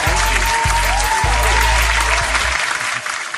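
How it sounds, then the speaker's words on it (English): A studio audience gives a guest a warm round of steady, dense applause, loud and sustained throughout before easing off slightly at the end, with a few low thumps underneath. "Please help me with a round warm of applause of my guest, Mr. Jeffrey Peterson"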